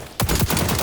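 A short, rapid burst of video-game gunfire cracks out close and loud as several shots run together in under a second.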